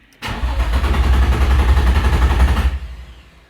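A Nissan 350Z engine turns over rapidly with a steady cranking chug for a few seconds, with no fuel pump heard, loud and close, then cuts off without catching.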